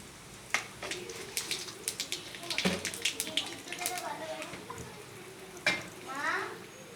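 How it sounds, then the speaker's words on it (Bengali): Nigella seeds hit hot oil while a Bengali fish curry with small aubergines is being made, giving a soft crackling sizzle with a few sharp pops and clinks of stirring; a voice speaks briefly over it. "এবার এই তেলেই আমি কালো জিরে ফোড়ন দিয়ে দিচ্ছি।"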